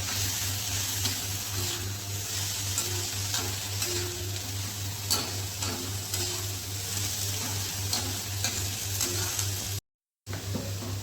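Vada pav potato filling frying with turmeric and ginger-garlic-chili paste, a steady close sizzle with intermittent stirring scrapes and a low constant hum underneath, broken by a brief dropout near the end.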